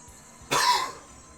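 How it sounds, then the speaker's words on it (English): One short, harsh cough bursts out close to the listener and fades within half a second, with a quiet background before and after. "I apologize for my cough."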